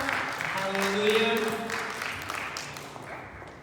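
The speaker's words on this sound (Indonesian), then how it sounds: "Tepuk tangan untuk mereka yang main drama." Audience applause for drama performers at a Christmas church gathering in Maastricht, a moderate wash of clapping that tapers off, with a voice speaking over the start.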